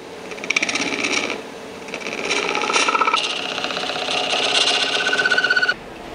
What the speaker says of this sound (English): I'm going to take a parting tool and I'm going to just make a nice tenon